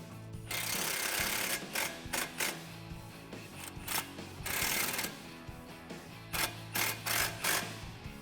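An impact gun drives T40 Torx bolts while a Ford Performance adjustable handling pack is fitted to a 2005-2014 Mustang GT coupe: a series of loud, short rattling bursts separated by brief pauses, close by.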